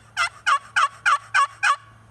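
An old Lynch turkey call, a handheld hunting call, gives six evenly spaced raspy yelps in a quick steady rhythm that imitate a wild turkey, close and distinct over a faint low hum.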